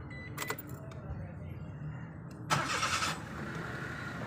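A car, returning with its engine check light still on, cranks and restarts in a short loud burst after some light clicks and rattles, then idles with a steady low hum underneath, close by.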